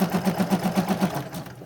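Sewing machine stitching along a trim, a steady rapid run of needle pulses close by for about a second before it slows and trails off, with no talk.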